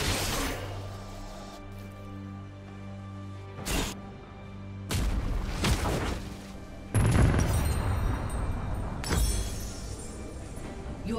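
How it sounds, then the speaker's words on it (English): Heavy booms, crashes and layered explosion effects as a turret is destroyed in League of Legends, loud and dense with sharp breaks between bursts and rumbling tails throughout. "Your turret has been destroyed."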